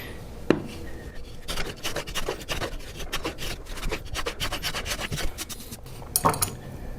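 Guitar wood for a handmade classical guitar is scraped and sanded flat by hand: steady, close rasping strokes that rub back and forth in a dense rhythm, with a sharp knock near the start and another near the end.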